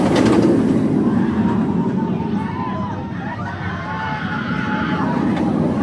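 Rapterra, a launched B&M wing roller coaster at Kings Dominion in Doswell, Virginia, makes a sustained rumbling roar with rail clatter, heard amid crowd chatter and nearby voices.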